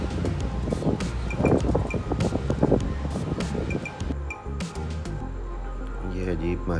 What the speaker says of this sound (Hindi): आज बहुत तेज़ हवा चल रही है दोस्तों।